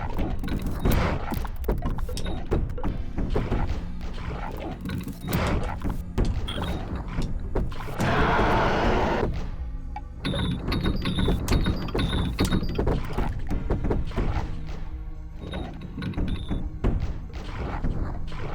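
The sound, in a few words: hitting screws repeatedly in a video game stage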